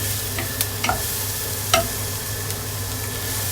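A spoon stirs chili powder through a frying dish of fresh bamboo shoots, giving a few soft scrapes and light taps over a steady low sizzle.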